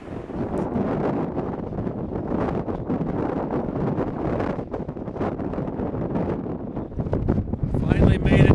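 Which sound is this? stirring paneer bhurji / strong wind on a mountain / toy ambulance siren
strong wind on a mountain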